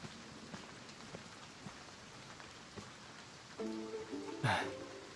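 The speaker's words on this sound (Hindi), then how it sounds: "अरे बाप रे, यहाँ तो बहुत बारिश हो रही है।" Heavy rain pours steadily as a continuous hiss during a dubbed Chinese film scene, with a brief voice and a louder swell near the end.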